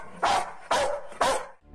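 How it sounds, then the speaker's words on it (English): A protective dog standing its ground gives three loud, evenly spaced warning barks close by, each ringing briefly before the next, with no one talking. "The canine stood in a defensive position and warned the man not to come forward."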